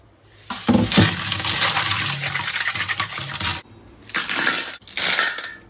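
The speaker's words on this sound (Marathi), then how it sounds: "पण त्याआधी आपण एकदा स्वच्छ दोनदा ते 3दा पाण्यातून" Clams being washed in water by hand, close wet sloshing with hard shells clattering and grinding together in bursts, stopping briefly between rounds of scrubbing, with no voices.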